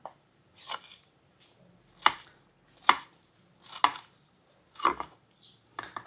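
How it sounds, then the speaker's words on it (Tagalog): Knife chopping onion and garlic on a board, six or seven separate sharp, close chops spaced roughly a second apart with quiet gaps between. "Hiwa na po tayo ng mga rekado, sibuyas, bawang."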